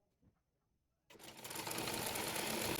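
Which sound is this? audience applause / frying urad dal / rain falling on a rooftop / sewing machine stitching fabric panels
sewing machine stitching fabric panels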